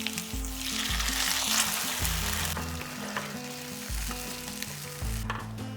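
Ground spice paste sizzling and frying in a pan of fish curry, a steady loud hiss with bursts of crackle and some stirring, close up and without speech.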